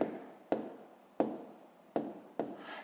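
Numbers for a long-division problem written by hand, the pen striking and scratching on paper in five short separate strokes, close and quiet.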